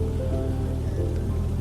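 Heavy rain falls in the storm-chasing video game Twisted, a dense, steady hiss of drops that stays constant and fairly loud throughout.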